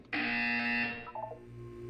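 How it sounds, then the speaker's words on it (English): A buzzer sounds in the video game Portal 2: one steady, loud electronic tone lasting nearly a second, then fading into a faint lower hum, with no voices. "You will hear a buzzer."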